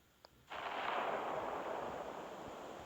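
A small click, then a sudden broad explosive roar that rumbles on and slowly decays, like a synthetic blast: an asteroid explosion in the game Solar Smash.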